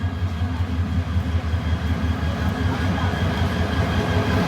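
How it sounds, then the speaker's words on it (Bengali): The Teesta train pulls in along a station platform, giving a loud, steady rumble of rolling wagons with a faint rhythmic clatter that runs the whole time. "আমাদের ট্রেন তিস্তা অলরেডি 2 নম্বর প্ল্যাটফর্মে ঢুকতেছে"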